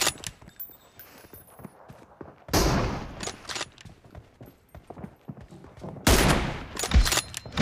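Gunfire from the PUBG Mobile video game: sharp shots and a couple of loud, dense bursts of rapid fire sound close by, with quieter taps and clicks in between.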